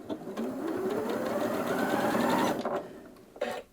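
A Janome Atelier 7 sewing machine stitches under its start-stop button, a steady mechanical whir rising slightly in pitch for about two and a half seconds, then stopping with a few clicks and a brief final burst.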